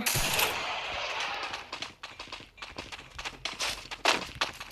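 Rapid bursts of gunfire from the game Free Fire crackle in quick succession, loud and close, with short pauses between volleys and no talking.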